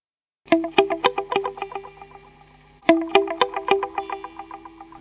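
Notes played through a TVS3 echo effect set to emulate a Meazzi PA306 echo unit come in two bursts, each plucked note followed by rhythmic, rapidly decaying repeats that ring out clearly.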